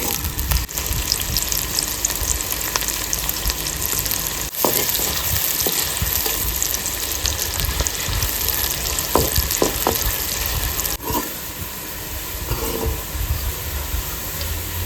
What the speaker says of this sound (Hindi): घी गर्म हो चुका है, और अब ये कटे हुए प्याज ऊपर से डाल देते हैं सारे। अब इन प्याजों को हल्का सा ब्राउन कर लेते हैं।